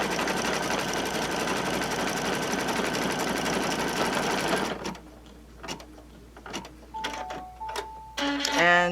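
An embroidery machine stitches a zippered pouch held in the hoop, a dense, steady mechanical chatter that runs for several seconds, then stops abruptly and leaves faint clicks and small handling sounds.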